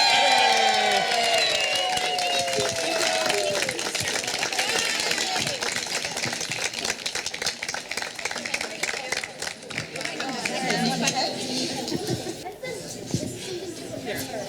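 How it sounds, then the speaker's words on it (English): At a campus ribbon cutting, a crowd claps and cheers for students, loud at first and gradually thinning into scattered applause and chatter, with voices talking throughout. "One more round of applause for the students"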